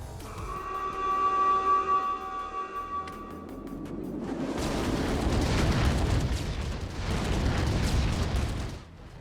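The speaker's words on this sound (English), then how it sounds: "The airstrikes feel a bit too much like fireworks, but explosions are notoriously difficult to nail down." Airstrike explosions in the VR shooter Contractors Showdown arrive after a few seconds of ringing tones: a run of dense, crackling booms that swell and overlap like fireworks, loud and sustained before cutting off abruptly.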